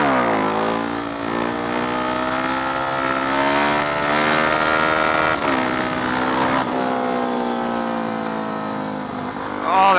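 Supermoto motorcycle being ridden, its engine rising and falling in pitch through repeated revving and gear changes, loud and close throughout with wind noise.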